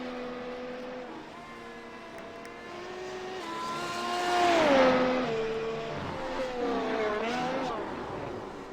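Formula One race cars from a video game lapping Red Bull Ring, a whining engine note rising and falling through gear changes as a car swells past and fades, with a faint voice beneath.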